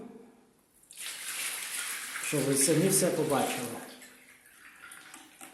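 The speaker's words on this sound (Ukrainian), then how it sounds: "Я взяв інше відро води. Давайте я виллю" A bucket of water is poured into a shower tray drain in a tiled bathroom, a loud splashing rush that swells for a few seconds and then fades, with someone talking over the start.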